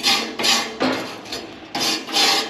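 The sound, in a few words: soft metal bristle brush scrubbing gas heater burner holes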